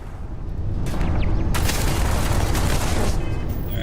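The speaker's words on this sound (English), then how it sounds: "So the station turrets that are shooting us." Station turrets firing in Starfield space combat, a dense, loud barrage of booming blasts that swells after the first second and rolls on without pause.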